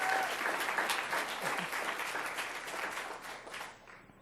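An audience at a Palm Beach County event applauds a newly named 2018 Green Teacher of the Year with steady, full clapping that holds for about four seconds, then begins to fade.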